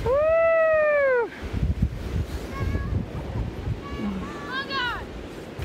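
Blizzard wind blows snow across a Minnesota farm in a constant, rushing roar that buffets the microphone. Brief rising and falling vocal exclamations come through near the start and again later.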